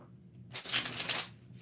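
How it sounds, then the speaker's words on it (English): Tarot cards being riffled and shuffled, a dense papery rustle building to a steady flurry for about a second before easing off, close and moderately loud, with no talking. "3 more shuffles."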